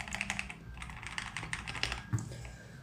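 Close, quick typing on a mechanical keyboard fitted with Honey Bee XDA profile keycaps, a dense run of light clacky keystrokes with a slightly firmer thud near the end.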